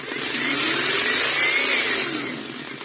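A small 40V electric motor runs on an AliExpress controller board powered by two batteries in series, giving a loud, high whine that swells, holds steady, then eases off toward the end.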